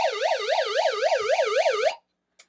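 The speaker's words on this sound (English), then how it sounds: "it will flash this light and play that siren sound." A YEZRO solar hand-crank emergency radio's SOS switch sounds a loud, wavering electronic siren, rising and falling about seven times in under two seconds before cutting off, followed by a brief faint click.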